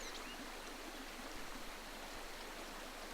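A river runs in a steady, soft wash of flowing water, faint and even throughout with no voices.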